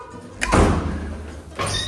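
Doors opening and closing in a building on the way to an airport garage: a heavy thud and rush as one door swings shut, then another door sound follows moments later, close and fairly loud.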